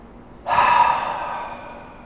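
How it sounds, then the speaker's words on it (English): A single deep exhale during a breathing meditation, a sudden breathy rush of air that starts abruptly and slowly fades over about a second and a half, close and clear, with no talking. "Take a nice deep breath, inhale, fill up and hold, open the throat and the heart chakra,"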